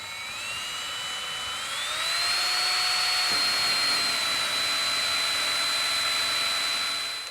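A power drill whines steadily as it drives 2.5-inch square drive screws into a Trex deck guard rail, its pitch rising and then holding high, loud and close, with no talking.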